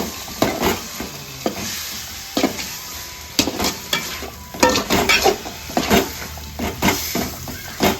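Chicken sizzling and frying in a pan while being stirred, with repeated scraping and clinking of a utensil against the pan over a constant frying hiss, close and fairly loud.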